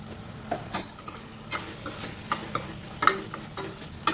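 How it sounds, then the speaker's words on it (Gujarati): Dry spices such as turmeric, coriander-cumin powder and red chilli are stirred into mixed leafy greens cooking in a pan, with a series of scraping, clinking stirs at irregular intervals over a faint sizzle, close and moderately loud. "બધું મિક્સ કરી લઈશું થોડી વાર એને ચડવા દઈશું"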